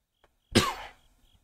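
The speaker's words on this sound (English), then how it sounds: "Wow, I'm coughing a lot this episode" A single harsh, close cough bursts out sharply and trails off quickly, heard alone without speech against near silence.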